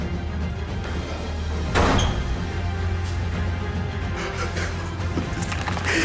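A door closes behind someone inside an old abandoned house, giving one brief thud over a steady low hum and faint background noise, with no one speaking.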